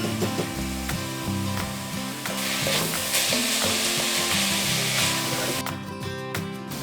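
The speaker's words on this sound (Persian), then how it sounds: "یه قابلمه میذاریم روی گاز، میذاریم که داغ بشه و سبزی رو توی روغن سرخ میکنیم" Herbs fry in hot oil in a pot on the stove, seasoned with salt and pepper, giving a loud steady sizzle with stirring scrapes and clinks over the crackle throughout.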